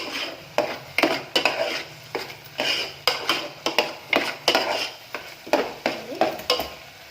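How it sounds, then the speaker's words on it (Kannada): Spoon stirring ginger-garlic paste into a chicken tomato gravy base in a pan, a steady run of scraping strokes close up over a soft sizzle, with no talking. "ಈಗ ಎಲ್ಲ ನೀಟಾಗಿ ಮಿಕ್ಸ್ ಮಾಡ್ಕೊಬೇಕು."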